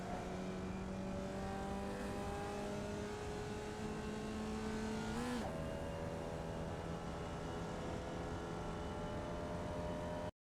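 A Formula Vee race car engine in the iRacing simulator at Summit Point Jefferson, droning steadily with a whining tone that climbs, dips briefly at a gear change midway and then climbs again, loud and alone.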